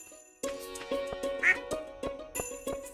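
A farm duck in Stardew Valley quacks amid a quick string of game sound effects, with repeated short tones and one bright chime over a soft background.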